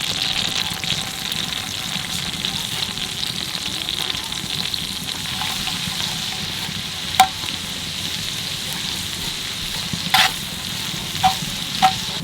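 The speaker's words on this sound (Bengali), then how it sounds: "তেলের মধ্যে একটু বাটার দিয়ে দেবো। এবার দেবো রসুন কুচি।" Chopped garlic sizzles in oil and butter in a pan while prawns are being cooked, giving a steady, close frying hiss with a few sharp crackles and pops.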